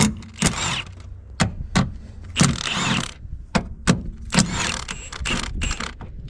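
A ratchet with a 13mm socket works on the strut of a 2002 Jaguar S-Type, giving bursts of loud, close clicking and metallic clunks separated by short pauses.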